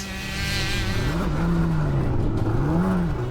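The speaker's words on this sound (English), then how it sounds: "whilst young Seth here is armed only with his 100cc two-stroke quad. He's off of the line, the chase is on." A 100cc two-stroke race quad accelerates off the line, its high buzzing engine revving and climbing in pitch, loud and close, with no voices.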